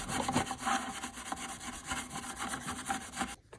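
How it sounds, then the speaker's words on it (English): An old knife is scrubbed with steel wool in steady, quick back-and-forth rasping strokes that stay close and continuous until an abrupt stop at the end. "after scrubbing it down with the steel wool"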